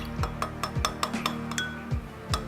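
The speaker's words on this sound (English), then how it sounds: "And now you wanna start whisking." Lemon juice being whisked in a bowl, heard as a series of bright, irregular clinks and taps of the whisk against the bowl, close and fairly loud, with no voices.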